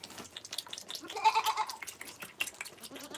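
Goats bleat at a barn during feeding, several overlapping calls at close range with busy farmyard noise around them.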